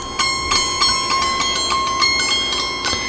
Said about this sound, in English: It's one of those door chimes